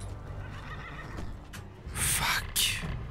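Horse neighing in the video game Skyrim, two loud whinnies close together near the end after a stretch of quieter game ambience.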